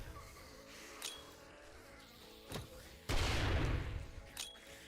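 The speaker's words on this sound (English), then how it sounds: "We're lobbing grenades at zombies." Grenades blast zombies in the video game 7 Days to Die. A few sharp cracks are followed by one larger rumbling explosion that lasts about a second, heard fairly quietly over a faint buzzing background.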